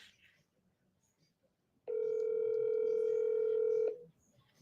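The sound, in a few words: telephone ringing during an outgoing call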